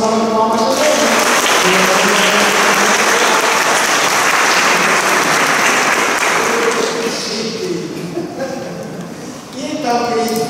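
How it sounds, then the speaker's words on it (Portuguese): A congregation at a First Communion mass in church bursts into loud, sustained clapping that fades gradually toward the end, with a voice speaking at the start and again as the applause dies down. "Merecem uma valorização de palmas também."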